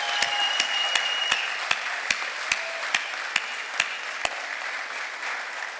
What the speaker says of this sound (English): I think we should all take a moment to give another rousing round of applause